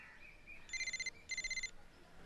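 A telephone rings twice in short trilling bursts, a bright electronic bell pattern, fairly quiet in a still room.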